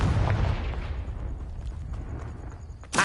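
Confringo spell in Hogwarts Legacy, a fiery blast opening with a loud boom that rumbles and fades over a few seconds, followed by a sharp burst at the end.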